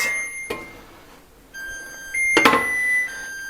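An oven's preheat chime: a short beep, then a held tone that steps into a brief bright melody of several pitched notes, fairly clear in a quiet room.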